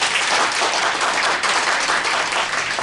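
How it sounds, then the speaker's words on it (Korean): Audience at a Korea Association of Travel Agents meeting giving steady, loud, dense applause that fills the whole stretch without pause, with no voices over it. "두 분에게 뜨거운 박수 한번 부탁드리도록 하겠습니다"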